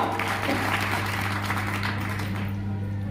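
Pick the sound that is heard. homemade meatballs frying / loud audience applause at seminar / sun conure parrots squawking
loud audience applause at seminar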